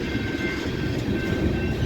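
A Union Pacific manifest freight train passes close by, a loud, steady rumble and roar of rolling railcars with no break.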